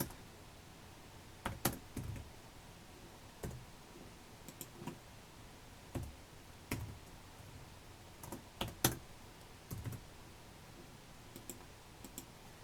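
Show notes being typed on a computer keyboard, with scattered light key clicks and taps arriving in short irregular bursts and pauses, close and fairly quiet with no talking.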